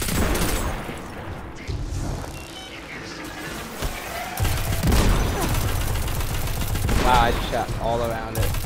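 Rapid gunfire from a weapon in the shooter game Destiny 2, with dense repeated shots and booms running continuously beneath someone talking.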